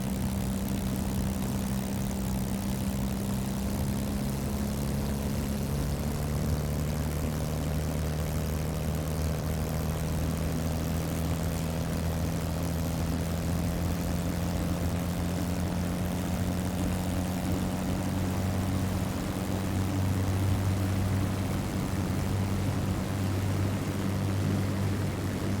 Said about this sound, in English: It's very difficult to do a good takeoff in the Spitfire.